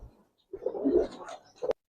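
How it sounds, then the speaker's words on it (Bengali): A single Giribaz high flyer pigeon gives a short, close, soft rolling coo followed by a brief clipped note, with quiet gaps around it. "প্রত্যেকটা লম্বা কলার ভিতরে কবুতর দেখেন।"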